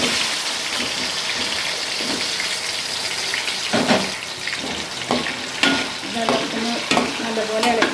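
Elephant foot yam pieces fry in hot coconut oil in a pan, a dense continuous sizzle broken by louder scraping stir strokes toward the end.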